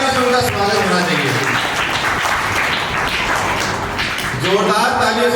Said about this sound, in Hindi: और मैं चाहता हूँ जोरदार तालियों से उनका स्वागत होना चाहिए